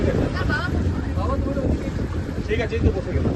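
Speed boat ride on open water off Marine Drive, Mumbai, with a steady loud engine-and-hull rumble and wind buffeting the microphone throughout, while people talk over the noise.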